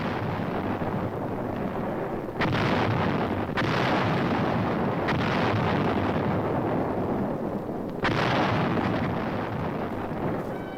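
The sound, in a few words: 155 mm artillery guns firing in the Korean War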